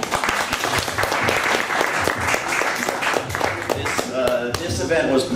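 Sustained audience applause at a political event in Washington DC: dense, steady clapping from many hands filling the room, fairly loud and continuous throughout.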